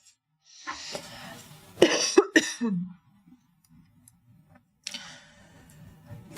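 A man coughs in a few rough bursts, a short burst and then a cluster of harsh hacks, close to the mic, with a fainter throat sound after a quiet gap.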